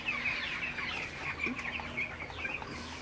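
Seventeen-day-old broiler chickens cluck in their shed: a continuous murmur of overlapping soft clucks from many birds at moderate distance, with no voices.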